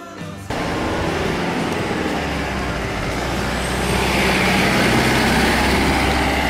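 A school bus engine idles steadily on a Tokyo street, a low continuous rumble that starts abruptly and holds at an even level, with traffic hiss around it and no talk.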